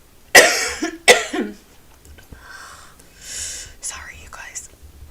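A person coughs hard twice in quick succession, close and loud, followed by a raspy throat-clearing sound and some breathy, whispery noise.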